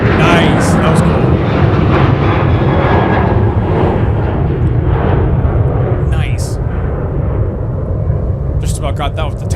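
Two aircraft pass together at Minneapolis–Saint Paul airport, a loud, steady jet roar that fills the whole stretch and eases slightly toward the end, with a voice talking over it.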